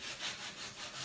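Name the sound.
sanding painted wooden Christmas sign with sandpaper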